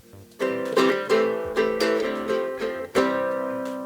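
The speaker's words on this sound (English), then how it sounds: "This here is called a guitarlele. It's half guitar and half ukulele." A guitarlele, a half-guitar, half-ukulele instrument, plucked alone, close and bright, with a run of ringing notes and strummed chords that each decay before the next attack.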